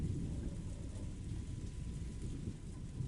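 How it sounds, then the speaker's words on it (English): Steady rain pours with a low, continuous rumble of thunder in the visual novel Umineko, a dense, even downpour with no voices. "Oh, seems like it's finally starting raining."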